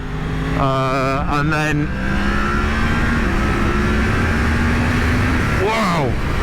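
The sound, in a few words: 2020 Yamaha MT-10 motorcycle engine accelerating through rev range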